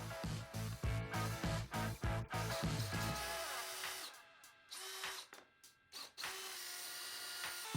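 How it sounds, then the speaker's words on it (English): A power drill bores out a screw hole in the base of a homemade zero clearance saw insert, using a slightly larger bit, giving loud rhythmic bursts of whirring that then settle into a lighter, steadier spin with brief pauses. "At first, the screw was too tight, so I drilled out the hole in the base with a slightly larger bit."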